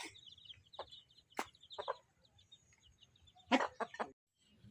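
Hens and chicks at a village home clucking and cheeping in short, scattered bursts, fairly close but quiet, with gaps of near silence between calls and no speech.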